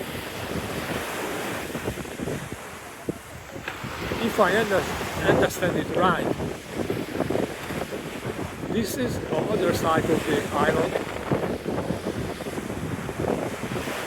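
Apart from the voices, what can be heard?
strong wind and ocean waves at Momo Beach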